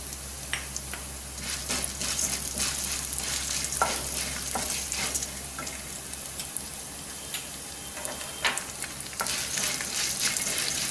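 Toor dal, urad dal and black pepper dry-roasting in a little oil in a pan, a steady fine sizzle with scattered crackles and pops and occasional scraping from stirring, continuous and close.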